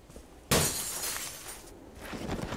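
Smashing and shattering inside the video game Cataclysm Dark Days Ahead: a sudden loud crash of breaking glass, then a long crackling, debris-filled tail that fades slowly with no talk over it.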